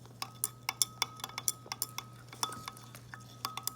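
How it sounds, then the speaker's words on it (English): A metal utensil stirs copper chloride solution with aluminum foil in a glass beaker, making quiet, steady clinks and taps against the glass in a fairly regular rhythm, with a faint background hum. "And then I'm going to stir."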